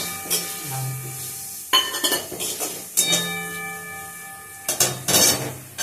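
Spoon clinks and scrapes against a metal pan in bursts as chili, cumin and turmeric powders are stirred, with faint frying underneath between the louder knocks.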